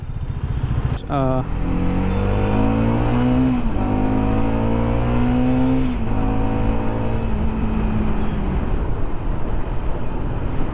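A Hero Karizma XMR 210 motorcycle is ridden close up and revved hard, with three rising engine sweeps separated by quick gear-shift dips. Steady wind and road rumble sit underneath.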